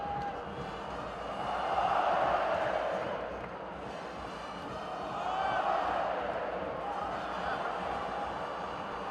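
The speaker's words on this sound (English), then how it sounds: "Early olays from the home crowd." A home football crowd in a stadium chants olé in swelling waves at an El Salvador versus Suriname qualifier, the distant roar rising and falling under a commentator's voice.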